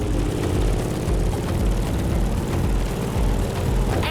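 Grumman F8F Bearcat propeller fighter flying in the racing game The Crew Motorfest, a loud, steady droning engine roar with a deep low rumble that holds constant throughout.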